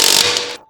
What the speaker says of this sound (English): Tighten the lug nuts using a 19mm deep socket and an impact wrench.